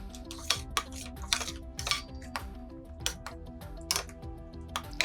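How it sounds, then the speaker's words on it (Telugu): A spoon knocks and scrapes rhythmically in a pan as a cornflour cream mixture thickens on the stove. The clinks are soft, close and regular, with no voices. "కలుపుతూనే ఉండాలి మనము"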